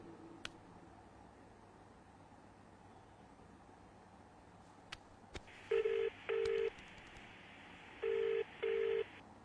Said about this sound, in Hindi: आज कार्तिक का बर्थडे है, वीडियो कॉल करता हूं।